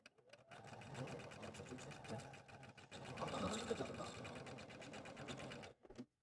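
Sewing machine stitching fabric pieces for a squirrel quilt, a fast continuous whirring needle rhythm running for several seconds before stopping abruptly, faint and steady.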